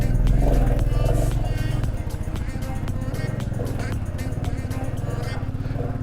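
A Royal Enfield motorcycle labours up a steep Spiti Valley mountain road carrying a passenger, its engine thumping in a rapid steady pulse, louder at first then settling into a continuous chugging beat.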